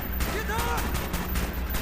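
Rapid bursts of automatic gunfire crackle in a firefight in the Call of Duty Black Ops game, with sharp repeated shots close and loud and voices mixed in.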